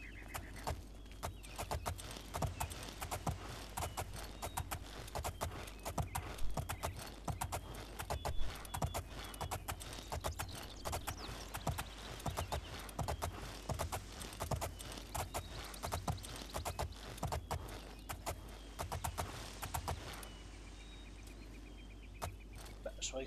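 Horse hooves clip-clop in the video game Oblivion, a steady rapid run of hoofbeats that goes on under game sounds and ends in a quieter stretch. Speech is also present.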